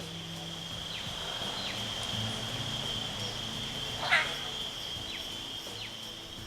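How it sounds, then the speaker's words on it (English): Frogs call in the woods near a small log cabin retreat, a steady high trill running throughout with a few louder croaks and chirps, a calm, moderately close chorus with no motors. "all you can hear are the frogs"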